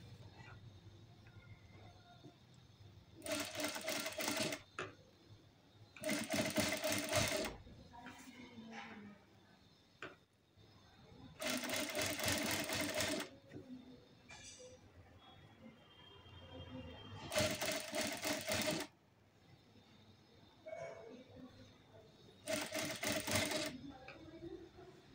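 A sewing machine stitches evenly in five steady bursts of a few seconds each, with quiet pauses between runs and faint background hum.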